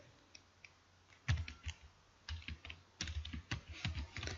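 Typing code on a computer keyboard: quiet, close key clicks in irregular bursts and short runs, with small pauses between them, alone without talk.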